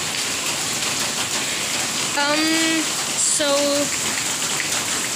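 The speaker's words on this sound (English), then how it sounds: "See, let's go outside. See, it's raining." Monsoon rain falls outside on a street under street lights, a steady broadband hiss of rainfall running throughout, with a brief spoken word over it.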